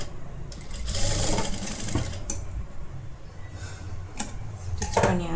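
A sewing machine stitches a blouse collar in a steady mechanical whir with quick clicking, running close up, with brief knocks and a short spoken word near the end.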